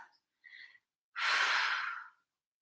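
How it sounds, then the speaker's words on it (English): A deep breath taken during a yoga practice session: a soft short breath sound, another short one, then a long, full exhalation of about a second, close and clear with no talking. "Take a nice deep breath."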